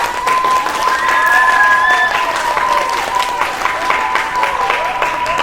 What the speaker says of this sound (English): Let's give one big round of applause for everybody becoming authors.